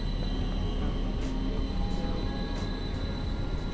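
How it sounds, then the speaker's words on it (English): A Greater Anglia train rumbling past outdoors, a steady low broadband roar holding throughout with faint higher squeals from the rails, fairly loud and continuous with no talk over it. "Can you see the train? Can you hear it?"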